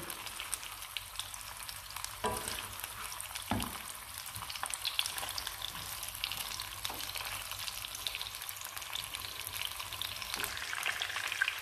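Sea bream fries in oil in a pan with a loud, continuous, close sizzle, broken now and then by a brief scrape or knock of a spoon, with no talking.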